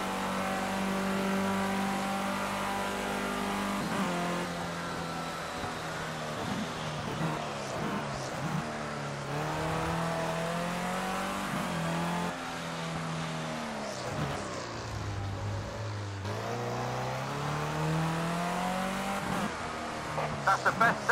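Race car in the racing game Project Cars 2, its engine revving up and down through gear changes over a lap with occasional tire squeal, steady and close, while a voice talks at times.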